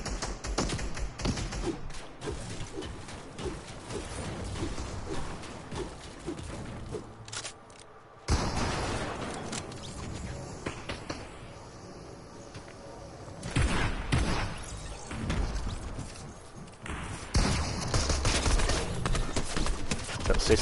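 Rapid bursts of Fortnite gunfire crackle through a busy mix, with a brief dropout partway and heavier volleys near the end.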